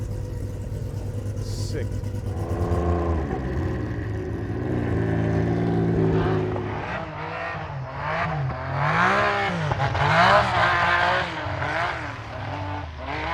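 A race car engine warms up before an ice race, idling loud and rough, then revving in rising and falling surges. People talk nearby over the steady mechanical roar.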